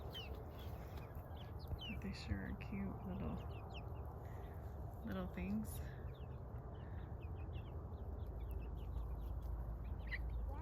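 Chickens cluck and call in a coop with turkeys and silver phoenix roosters nearby, a few short clucks and squawks over a constant low background rumble, while a person talks.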